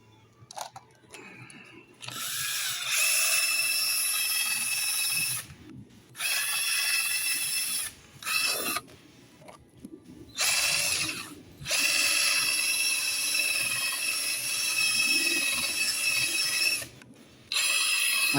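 A drill buffs a foggy car headlight in several bursts, a loud whirring spin that starts and stops repeatedly with short quiet gaps between runs.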